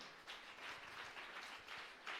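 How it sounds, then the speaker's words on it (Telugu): A church congregation claps continuously, faint and distant, a steady wash of applause across the short stretch. "కొట్టు చప్పట్లు గట్టి కొట్టు"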